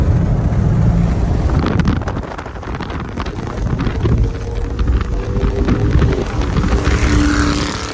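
A loud Ford Mustang drives close behind, its engine a heavy, continuous rumble with wind buffeting throughout, on an Atlanta road among sports cars.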